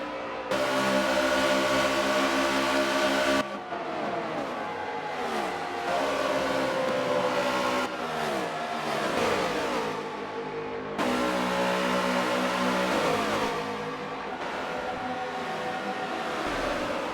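Race car engines roaring in a NASCAR Cup Series video game, a loud sustained drone with rising and falling pitch as cars pass and shift, steady throughout with no talk over it.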